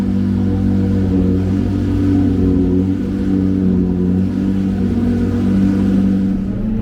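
A Porsche GT3 Cup race car engine drones loud and steady on the Le Castellet circuit, a close, sustained high-revving roar with slight shifts in pitch throughout.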